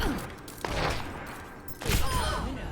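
Charged sniper shots in Overwatch, two sharp loud gunshot bursts about a second apart, each followed by a ringing tail, set against game ambience.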